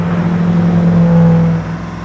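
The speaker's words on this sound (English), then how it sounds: "So the Koenigsegg Agera R, another pretender to the Bugatti Veyron Supersport's top speed record." Koenigsegg Agera R sports car engine on a racetrack, a steady loud drone that swells slightly then eases off near the end, heard close and alone.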